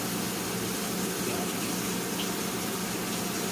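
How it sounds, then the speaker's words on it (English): Tap water runs steadily while hands are washed at a kitchen sink during baking, a constant soft hiss of flow with no pauses and no voices. "when you're washing your hands, make sure it's up there where it's between warm and between hot"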